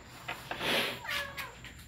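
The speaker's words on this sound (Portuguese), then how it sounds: "Nossa gatinha de estimação." A pet cat at home in Recife, Pernambuco meows a few times in close succession, short nasal calls rising and falling over faint room noise, with no talking.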